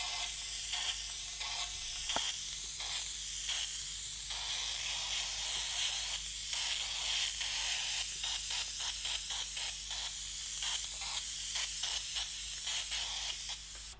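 An airbrush spraying paint onto a composite panel for a marble effect, a soft hiss that pulses in short, repeated bursts with brief gaps, fairly quiet and close.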